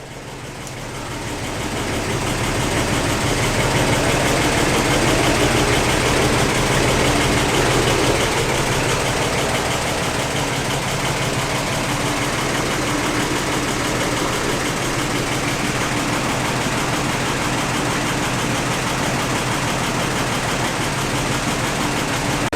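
Vintage Dodge race car transporter for an Alfa Romeo 8C-35 idling as it warms up, a steady low engine rumble with slight knocking that runs loud and continuous throughout.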